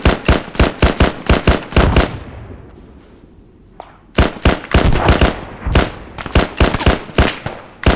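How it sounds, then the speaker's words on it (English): Heavy suppressive gunfire in a military shooter game: loud, sharp shots fired in rapid rhythmic bursts, a brief lull with faint distant noise, then another fast string of close, cracking shots. "I'm going to put down a lot of fire"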